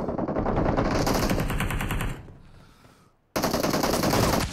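Rapid automatic gunfire from the mobile battle royale game BGMI/PUBG Mobile in a team deathmatch, a dense steady rattle of shots that fades briefly, cuts out, then returns just as loud.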